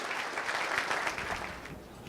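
Applause from an audience at a borough administrators' gathering fills the room, a steady, moderately loud wash of many hands clapping with no voices over it.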